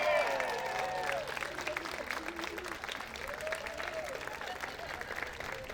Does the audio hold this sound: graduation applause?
yes